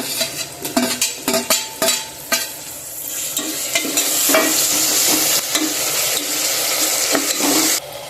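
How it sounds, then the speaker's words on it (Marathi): Tomatoes hit a pan of golden fried onion and ginger-garlic paste, setting off a loud, continuous sizzle after a run of sharp scraping and stirring clatters, with no voices. "आता आपण यामध्ये टोमॅटो टाकून घेणार आहोत।"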